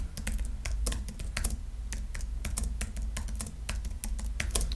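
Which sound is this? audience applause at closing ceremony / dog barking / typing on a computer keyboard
typing on a computer keyboard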